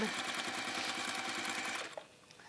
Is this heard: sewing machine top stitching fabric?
yes